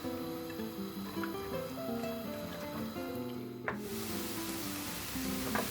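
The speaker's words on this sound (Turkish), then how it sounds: "Şöyle soğanlarımızı ekliyorum. Ve bu ve soğanlarımızı güzel bir kavuruyoruz." Chopped onions sautéing in vegetable oil in a pan give a steady, soft sizzle under background music, with one small clack partway through.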